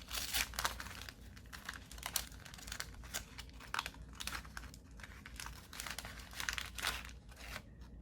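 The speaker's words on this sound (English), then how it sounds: "it's definitely pretty cool to open a Topps pack from the early 80s" Crinkling and tearing of a sealed early-1980s Topps trading card pack's wax wrapper, close and steady with irregular crackly bursts throughout, no talking.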